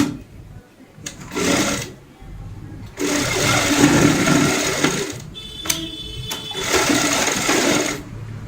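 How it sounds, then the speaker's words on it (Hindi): A sewing machine stitches a doormat made from old clothes in three short runs of whirring, separated by brief pauses with handling noise and a sharp clack. "एक साइड से यहाँ पे सिलाई की शुरुआत करेंगे"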